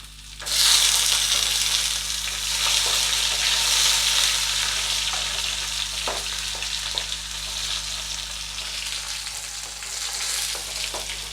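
Shallots and tomatoes sautéing in a pan give a loud, continuous, close sizzle that swells near the start and holds steady, with a few faint stirring scrapes and a low background hum, no voices.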